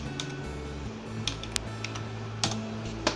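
Rapid clicking keystrokes on a computer keyboard while logging in to an online exam form, irregular close taps with a few sharper clacks and no talk.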